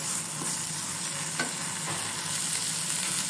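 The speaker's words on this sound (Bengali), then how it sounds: "অল্প তেল দিয়ে আমি এটা ভেজে নিচ্ছি 1 মিনিটের মতো" Fresh coriander leaves fry in a little oil in a pan, giving a steady, close sizzle with faint stirring scrapes throughout and no voices.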